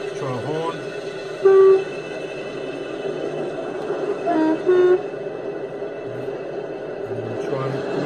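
A DCC sound decoder in a 0 gauge model locomotive sounds a few short horn toots over a steady hum and engine-like rumble, with people talking nearby between the blasts.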